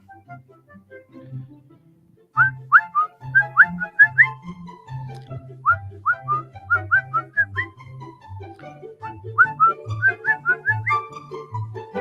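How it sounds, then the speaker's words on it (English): Someone whistles a lively, bouncing tune with quick notes, while a low rhythmic bass pattern plays steadily underneath. "Who's whistling?"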